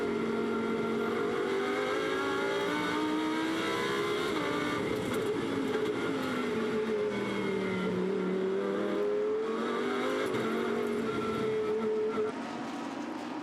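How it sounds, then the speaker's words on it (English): Lamborghini Super Trofeo race cars lapping the Nürburgring, loud engine notes rising and falling through gear changes as cars pass, a continuous roar throughout. "Di Folco, under menacing clouds, works his way through the Mercedes arena."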